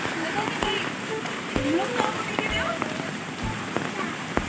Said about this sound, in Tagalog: sobrang laki ng tubig kanina, takalakas ng ulan